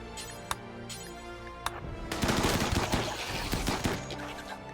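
Rapid gunfire erupts in a RimWorld colony battle, a few isolated shots giving way to a dense, sustained volley of overlapping bursts that stays loud to the end, with no talk.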